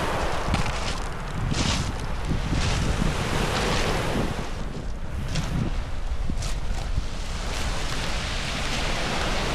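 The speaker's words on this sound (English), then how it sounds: "Beautiful beach." Waves wash continuously onto a pebbly beach in far North Queensland, a loud broadband roar of surf mixed with strong wind buffeting the microphone, with no voices.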